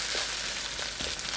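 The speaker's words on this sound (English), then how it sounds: "just basically break up the clumps as you stir fry" Bacon fried rice crackles and sizzles steadily in a hot wok as it is stir-fried, a dense, even frying hiss with a few faint scraping stirs underneath and no voices.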